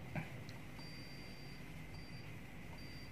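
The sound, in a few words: digital multimeter continuity buzzer beeping on shorted pins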